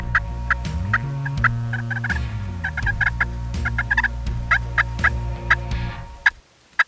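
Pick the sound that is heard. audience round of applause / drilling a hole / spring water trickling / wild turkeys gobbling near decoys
wild turkeys gobbling near decoys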